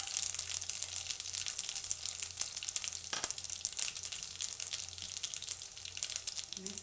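Mustard seeds, cumin and garlic crackle and sizzle in hot oil for a Hyderabadi dum baigan tempering, a steady close frying hiss with small pops throughout.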